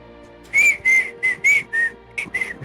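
A person whistles a short tune of about half a dozen clear, sustained notes in a steady rhythm, close and fairly loud, followed by a few quicker, softer whistled notes.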